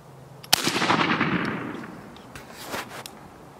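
A 20 gauge shotgun fires a 3-inch steel turkey load outdoors: one sharp, loud blast that booms and rolls away, followed by fainter echoes.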